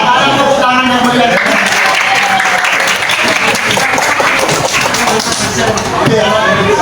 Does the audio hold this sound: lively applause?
yes